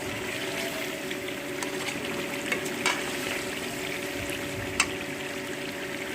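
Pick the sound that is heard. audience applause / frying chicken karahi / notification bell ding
frying chicken karahi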